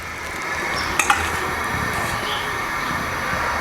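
Ghee sizzling hot in a pan for chicken karahi, a loud, steady, dense fry noise throughout with a couple of brief clicks, no talk.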